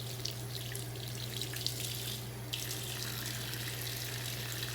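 Steady running tap water pours into a sink while a makeup sponge is washed by hand, a constant close hiss with faint splashes throughout.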